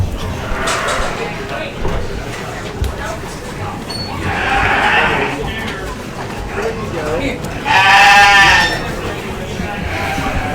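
Southdown sires bleat at a Midwest sire showcase, with a few distinct bleats rising over steady background chatter as people talk nearby.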